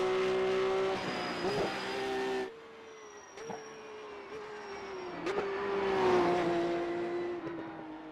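A Porsche race car engine in a racing video game revs high, drops sharply to a lower tone, then climbs again with a few sharp clicks, loud and close with no voices.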